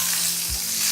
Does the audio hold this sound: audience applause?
no